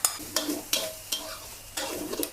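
Roasted galangal is stirred into minced pork in a hot pan for a chili paste, with a spatula scraping in about five regular strokes over a steady sizzle, close and clear.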